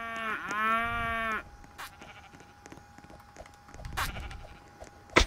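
A cartoonish cow moos in a Roblox game, a long harmonic bellow lasting just over a second, followed by quieter game noises and a couple of short clicks.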